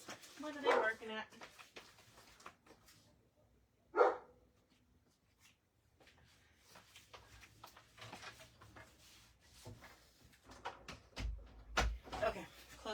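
Several dogs bark in short bursts at a moderate distance, with a loud bark near the middle, mixed with household clatter and a voice talking.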